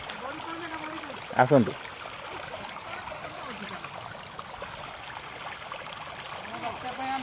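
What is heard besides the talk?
floodwater flowing after Cyclone Dana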